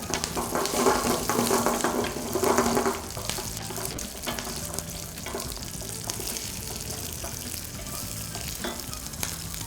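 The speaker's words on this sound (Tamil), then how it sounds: "கொஞ்சம் இந்த பச்சை மிளகாய் நல்லா சாத்தே ஆகட்டும்" Green chillies sizzle in hot oil in a pan for a brinjal fish gravy, loud and crackling at first before settling into a steady fry with occasional stirring.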